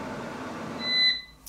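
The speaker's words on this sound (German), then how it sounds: "Hör jetzt auf zum Piepsen." An air fryer preheating gives a short electronic beep near the end, with a brief higher chirp after it, following a stretch of low background noise.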